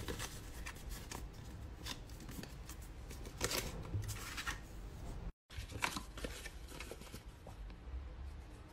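A pre-creased paper Christmas gift bag is folded by hand up close, with quiet crisp paper rustles and creases in irregular bursts, a brief dropout midway, and no voices.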